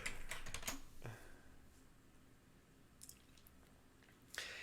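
Computer keyboard keys tapped very close to the microphone, with a short burst of clicks at the start, a quieter stretch with sparse taps, then another cluster of keystrokes near the end.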